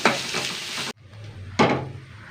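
Grated coconut roasts in a pan with a bright, hissing sizzle, broken by a short pause and then a fresh burst of stirring and scraping, close and alone.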